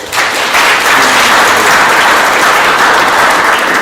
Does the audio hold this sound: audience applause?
yes